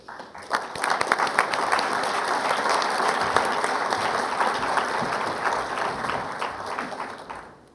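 Sustained applause from a large audience at an awards assembly, recognizing a selection committee; dense clapping swells quickly and holds steady for several seconds before tapering off at the end, with no talk over it.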